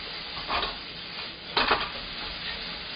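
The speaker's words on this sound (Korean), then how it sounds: "그 다음에 양파 투명하게 볶아주세요." Onions are stir-fried in a pan for Chinese-style spring rolls, giving a steady sizzle close by. Two short bursts of stirring and scraping rise above the frying.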